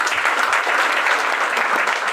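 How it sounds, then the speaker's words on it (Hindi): Audience members at a business seminar break into lively applause, a close, steady burst of many hands clapping throughout. "आपने तालियां बजा दी"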